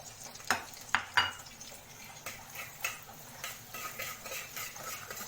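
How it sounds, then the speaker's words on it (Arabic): Minced garlic sautés in oil in a pan for an Egyptian koshari sauce, with a low steady sizzle broken by a few sharp utensil clinks and scrapes near the start and softer stirring knocks after. "الثوم يتشوح معايا"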